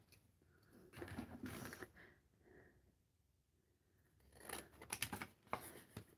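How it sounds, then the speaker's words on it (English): Scissors cut through paper for a spine journal in two bursts of crisp snipping and rustling, with a quieter stretch of soft handling between them, close by and with no talk. "Okay, we'll cut it."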